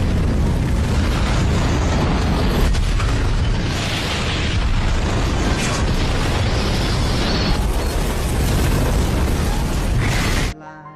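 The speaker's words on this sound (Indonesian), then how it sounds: "dan gedung itu pun meledak" A building exploding in The Walking Dead, a loud, sustained roaring blast with rumbling debris lasting about ten seconds before cutting off abruptly.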